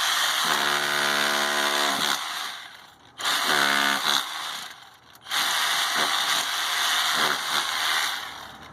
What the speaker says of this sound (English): right here I've got to cut through that, so I'll punch some holes.